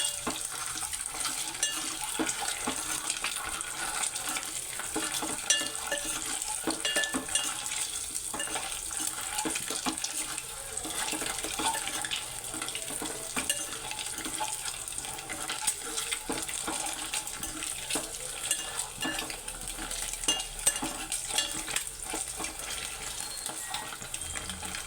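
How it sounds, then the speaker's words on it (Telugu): Eggs fry with turmeric in a pan, giving a steady, soft sizzle and crackle that runs unbroken and fairly faint, with no talking over it. "వేగుతాయి గుడ్లు."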